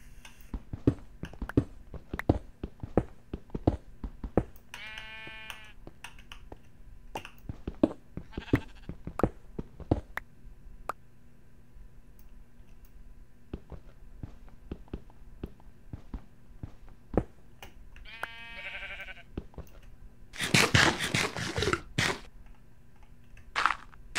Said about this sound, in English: I hear sheeps